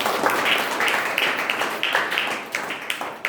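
A church congregation claps hands together at a Sunday worship service, a dense, steady patter of many palms that swells in repeated waves, loud and close, with no talk over it.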